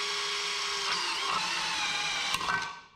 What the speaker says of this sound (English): Hell with it, let's drill it.